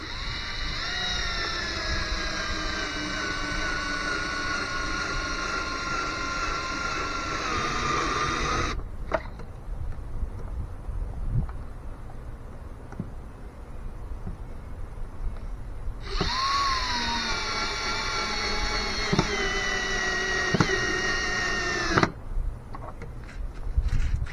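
A power drill drives screws into wooden planter support pieces, whining in two long, steady, close bursts with a pause of quieter clicks and handling noise between them.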